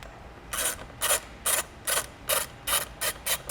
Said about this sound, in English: we're going to need a 10mm socket to take this bolt off